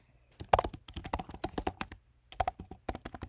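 Quick bursts of typing on a computer keyboard while entering a domain search during AWS setup: irregular clusters of close, crisp key clicks with a short pause midway, no voices.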